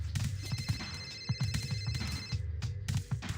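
A phone rings in a Teenage Mutant Ninja Turtles video game, a steady run of repeated electronic rings with sustained high tones, loud and close, layered over game music and effects.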